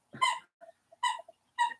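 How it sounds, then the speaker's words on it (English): A puppy plays with a squeak toy, producing three or four short high squeaks and small yelps in irregular bursts, close and clear against silence. "I don't know if you guys can hear the puppy with the squeak toy or not."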